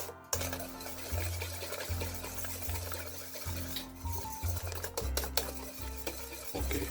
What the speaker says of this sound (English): So just give this a whisk before we start adding.